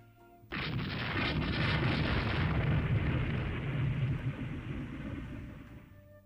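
A torpedo hit explodes in the naval strategy game Rule The Waves 3, a sudden loud boom that swells into a long roaring rumble, then fades over several seconds with no voices.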